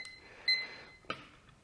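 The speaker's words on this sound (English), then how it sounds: "so I'm going to set my timer" Brief electronic beeps from a timer being set during a power yoga class, a short high chirp followed by a second quick tone, faint against a quiet room.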